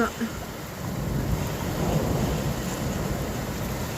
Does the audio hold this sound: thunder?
yes